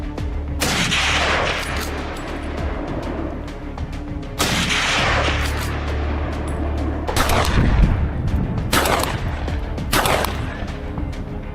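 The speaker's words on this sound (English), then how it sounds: "They attack first, choose high positions, shoot in formation, ensuring that every bullet hits the target" Loud rifle shots from hunters shooting wild boar, several sharp blasts a few seconds apart, each with a booming tail over a steady outdoor rumble, and no talking.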